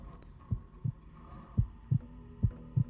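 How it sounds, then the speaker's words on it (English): A slow heartbeat thumps in paired double beats, three pairs in a row, from the glyph puzzle in the PC game Assassin's Creed 2, over a faint low hum. "similar to the one with the beeping, you just listening for the heartbeat"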